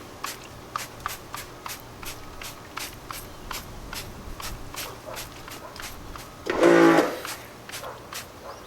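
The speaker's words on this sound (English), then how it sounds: "So I first start off spraying the Sonax wheel cleaner." Sonax wheel cleaner gets sprayed onto a car rim in a string of short, quick spritzes, then one longer, louder spray burst near the end, set against quiet background noise.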